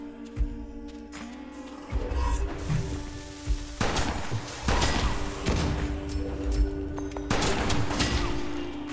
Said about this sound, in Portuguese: o maluco tá jogando granada